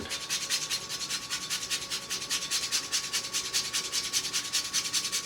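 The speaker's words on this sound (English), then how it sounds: "Nothing like fresh nutmeg, but if you want it in something, it's really good. I'm just going to grind." A whole nutmeg scraped against a grater produces quick, evenly paced rasping strokes, close and fairly soft, with no voices.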